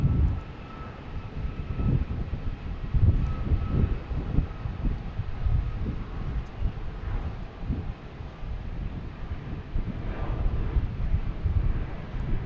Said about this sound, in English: we have Alaskan Airlines taking off